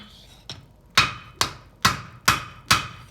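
A blacksmith hammers leaf spring steel while forging a spear head, using the hammer's edge to draw out the metal: six sharp, ringing strikes at a steady rhythm, one light tap followed by five loud blows, close up with no talk.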